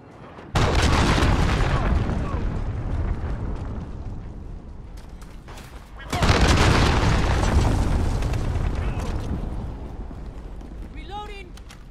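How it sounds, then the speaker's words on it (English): Cruise missile blasts in Call of Duty: Modern Warfare, a Domination match at Cheshire Park: two loud booming explosions, one near the start and another midway, each with a long rumbling decay, with faint radio-style game chatter underneath. "Allied cruise missile away."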